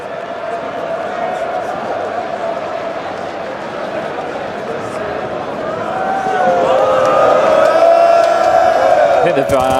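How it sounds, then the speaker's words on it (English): A large indoor esports crowd at a PGL Major Counter-Strike quarter-final roars and cheers continuously, swelling louder toward the end with shouts and whoops rising above the steady din. "The Vitality cheering squad's running out of energy here, Alex."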